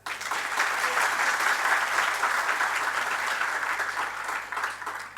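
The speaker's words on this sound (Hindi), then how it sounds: "बजाओ ताली" Sustained applause from an audience at a Jain monk's devotional sermon: dense, loud clapping that fills the whole stretch without a break.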